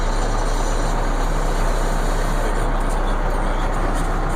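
A snow plow truck's diesel engine idling nearby, a constant low rumble with steady broadband noise and no breaks.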